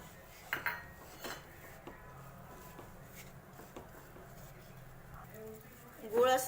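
Grated plain jaggery melting in a pan for til-gul chikki is stirred with a spoon, giving light scraping clinks and taps against the metal at an unhurried pace, with a louder clatter at the end.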